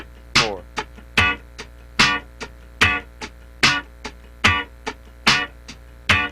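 Funk rhythm guitar hits muted downstrokes on the downbeat, with short percussive chord stabs in a steady, evenly spaced pulse, loud and close, played alone.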